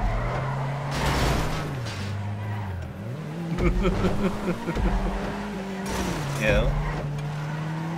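A car in a racing video game skids and spins out, its engine drone rising and falling with tire noise and scraping, while a person talks briefly over it.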